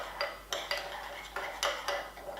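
A utensil scrapes and clinks against a roasting tray as vegetables are tossed with spices and oil, giving a series of about eight sharp metallic strokes at a steady, close rhythm.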